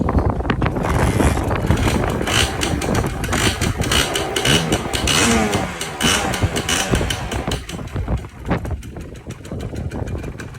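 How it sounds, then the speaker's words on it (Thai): A 1995 Honda Dash motorcycle with a two-stroke engine runs after being started, a loud continuous buzzing drone close to the microphone, muddied by heavy wind buffeting. "สตาร์ทให้ฟังเสียงเครื่องนะครับ"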